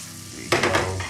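Chopped rosemary leaves drop into a hot pan and set off a sudden burst of sizzling over a low background hiss, with a faint clink of a utensil; the sound is close and brief, and no one speaks.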